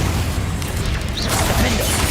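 A Confringo spell blast goes off in the video game Hogwarts Legacy, a loud, dense boom with a sustained low rumble that swells midway and ends in a sharp thud.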